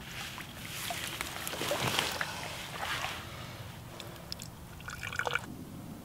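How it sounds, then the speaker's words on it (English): Water drips and trickles into a camp water filter on a riverside canoe outing, with scattered light splashes and drips over a soft outdoor background, no voices. "So what I'm going to do is scoop water up in here, and then let it drip into my filter,"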